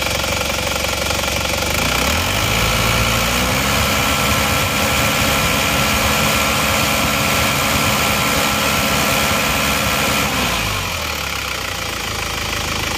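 Isuzu Panther diesel engine, just rebuilt with new liners and warmed up, revved up from idle to a sustained high rumble with a rough knocking clatter, then dropping back to idle near the end.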